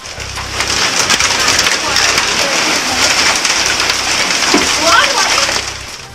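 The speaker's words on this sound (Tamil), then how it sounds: "தருமபுரி மாவட்டம் அரூர் சித்தேரி சுற்றுவட்டார பகுதிகளில் ஆலங்கட்டி மழை." Hail and rain pelting down around Arur in Tamil Nadu's Dharmapuri district, a dense, steady, close patter that holds at an even loudness throughout.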